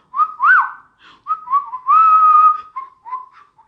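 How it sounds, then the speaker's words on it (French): Melodic whistling in short tuneful phrases with brief pauses, one longer sustained note in the middle, clear and close with no talk. "Et sifflement."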